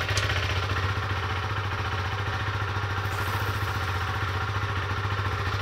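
A motorcycle engine runs steadily at a low idle-like rumble with mechanical clatter, shifting into second gear, continuous and close throughout without talk.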